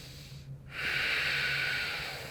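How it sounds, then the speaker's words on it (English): A single deep breath during strength yoga practice, a close, soft airy inhale rising after a brief pause and holding steady, alone in a quiet room. "Take a breath."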